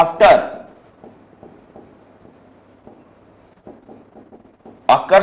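Marker or chalk writing on a board during a biology class, soft scratchy strokes in short bursts between a teacher's speech at the start and end.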